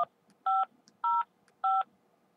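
Three evenly spaced telephone keypad tones sound as a voicemail password is entered, each a short clean beep, close and alone.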